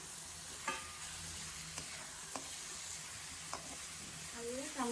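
Five or six chopped red tomatoes sizzle in a pan as they are stirred, with a steady, moderate frying hiss and a few scraping stir strokes.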